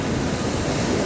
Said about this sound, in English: Just past the waves that are breaking.